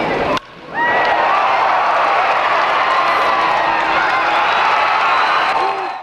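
A crowd of around 5,000 fans at Bill Myers Stadium, a minor-league baseball park in Knoxville, breaks into loud cheering, whooping and sustained applause after a sharp crack, roaring steadily for several seconds before fading at the end.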